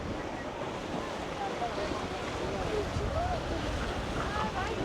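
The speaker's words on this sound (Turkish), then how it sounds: "Burada sürekli su sıçrıyor." Sea water splashing and washing against the rocky shore at Knidos, a steady rushing surge with wind buffeting the microphone throughout.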